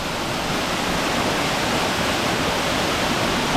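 Cavern Falls waterfall near Saluda, North Carolina, pours in a loud, unbroken hiss and roar of falling water, close by and alone with no voices.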